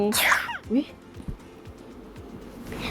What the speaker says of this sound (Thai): จามบ่อยมากเลย